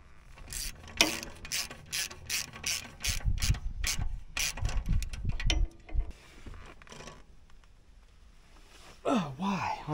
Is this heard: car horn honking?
no